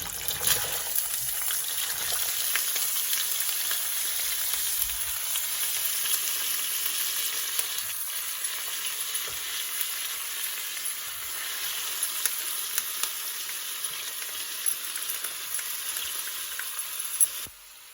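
Onions frying in a pan sizzle in a steady, bright hiss that holds evenly for the whole stretch, close and fairly soft with no talking over it.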